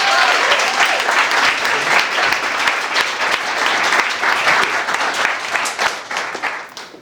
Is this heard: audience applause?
yes